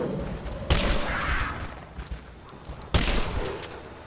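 Two loud, abrupt shotgun blasts from Rise of the Tomb Raider ring out a couple of seconds apart, each followed by a short decaying echo over quiet ambient background.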